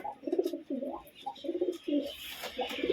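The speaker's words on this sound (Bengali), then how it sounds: "এই যে মাদি পায়রাটা রয়েছে এই যে নর পায়রাটা রয়েছে" Repeated low, throaty pigeon coos in short bursts, fairly close, with a faint rustle and some higher chirps in the background.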